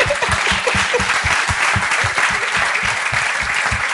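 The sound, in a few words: applause from an audience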